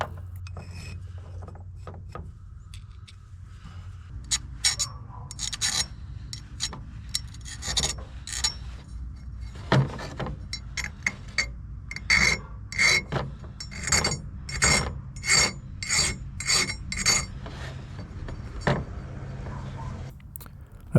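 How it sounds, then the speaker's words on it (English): A hand file rasps burrs off steel parts from a Grizzly 600 ATV's CVT, with a quiet start followed by a run of regular back-and-forth strokes, each a short scratchy burst, close and fairly faint. "After that I filed off a few burrs and other irregularities that I found."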